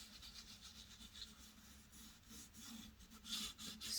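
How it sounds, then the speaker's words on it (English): Fabric rubs oil paint onto canvas while a white rose is painted, a soft, close scrubbing with uneven back-and-forth strokes that grow slightly louder toward the end. "I'm going to do the rubbing with the"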